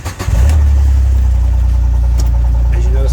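A car engine cranks and catches, then settles into a steady, loud, low idle close by with no speech.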